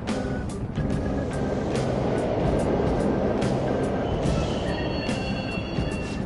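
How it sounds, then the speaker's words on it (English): Subway trains rumbling through a station in the video game Persona 5 Royal, a steady loud low roar with scattered metallic clanks and a faint high whine, continuous throughout. "The trains are totally running!"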